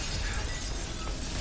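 Glass shatters in the horror video game The Evil Within, a dense, hissing crash of breaking shards that fills the whole moment at moderate volume without a clear start or finish.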